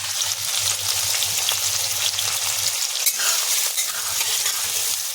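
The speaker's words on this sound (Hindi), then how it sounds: "अब इसमें डाल देंगे ये प्याज।" Onions sizzle and fry steadily in hot oil for dum aloo, a dense close crackle with occasional stirring scrapes and a low background hum, no talk.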